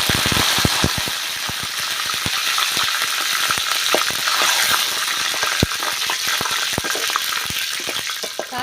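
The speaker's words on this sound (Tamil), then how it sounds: "எண்ணெய் சூடாயிட்டு கடுகு சேர்த்துக்கிறேன் கடுகு நல்லா பொரிஞ்சிருச்சு அது கூட வரமிளகா கருவேப்பிலை ரெண்டையும் சேர்த்துக்கிறேன்" Mustard seeds, dried red chillies and curry leaves spluttering in hot oil, a dense crackling sizzle packed with rapid sharp pops, loud and continuous with no voices.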